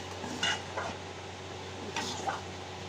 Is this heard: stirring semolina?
yes